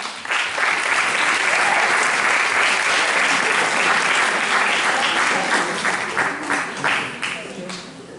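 Sustained applause from an audience at a pop-rock contest award ceremony as second-place prizes are handed out, loud and steady for several seconds before tapering off, with voices faintly underneath.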